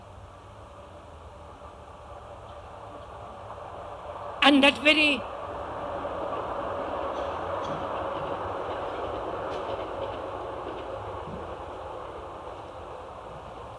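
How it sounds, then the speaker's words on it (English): A train goes by outside during a 1965 public talk in Saanen, its low rumble swelling gradually in the background and holding steady after a brief spoken phrase. "To listen to that train that went by,"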